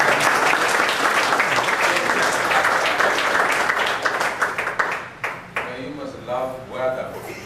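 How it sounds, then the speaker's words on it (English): Audience applause at a question session after a talk on the Great Bahamas Hurricane of 1866: dense, loud clapping for about five seconds, then thinning into scattered claps as a voice begins speaking. "give them another round of applause"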